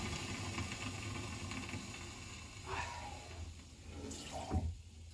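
Water poured onto hot cassettes in a sauna stove, a soft sizzling hiss and trickle over steady low background noise, swelling in brief bursts near the end, faint and with no talk.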